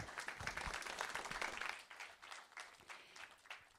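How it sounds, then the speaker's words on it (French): An audience in a lecture hall at a campus talk breaks into applause, a dense wash of clapping that swells, then thins into scattered claps, heard faintly from a distance. "je vous laisse l'applaudir."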